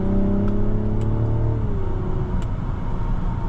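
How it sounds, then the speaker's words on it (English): A 2024 Mazda CX-90 3.3 turbo inline-six accelerating from inside the cabin, giving a smooth, steady hum with rising tones that level off, heard alone with a few faint clicks. "the engine has a very nice hum to it"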